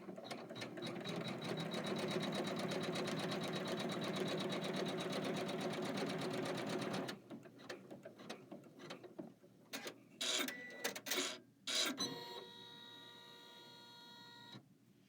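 An embroidery machine stitches a quilt border down in a fast, even, mechanical rattle for about seven seconds, then gives way to scattered clicks, thumps and a final rhythmic stitching burst.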